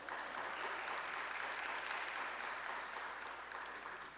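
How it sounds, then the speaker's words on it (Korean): A church congregation at a Sunday gathering applauds with dense, even clapping that holds steady for a few seconds before easing slightly at the end. "박수 한번 쳐."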